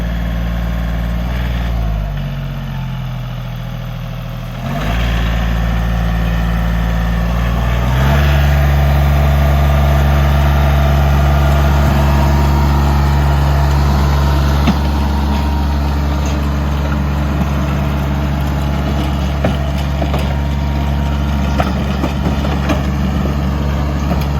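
A Yanmar YT235 tractor fitted with an SB125 rotary tiller and seeder runs with a continuous low engine drone, which shifts in pitch and grows louder after a few seconds before holding steady.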